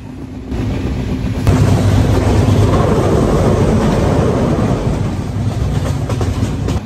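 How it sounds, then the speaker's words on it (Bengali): Dhumketu Express on the Dhaka to Rajshahi line running at high speed, a loud, steady rumble of wheels and carriage that swells after a moment and holds with faint rhythmic clatter, heard from inside the train with no talking. "আর ট্রেনের স্পিডও অনেক বেশি"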